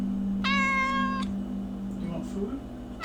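A pet cat gives one clear, drawn-out meow up close, followed by quieter indoor sounds and a bit of faint talking.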